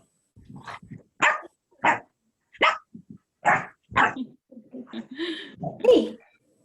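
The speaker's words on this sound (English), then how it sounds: "Can you hear the other dogs?" Dogs bark loudly close by in a series of sharp, separate barks, about eight in all, with short gaps between them and a few softer whines and yips mixed in.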